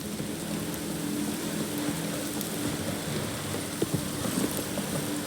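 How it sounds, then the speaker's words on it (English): Heavy downpour in The Witcher game world, a steady broadband hiss of rain with faint low rumbles beneath, continuous and even throughout with no speech. "This downpour's a bastard, it is."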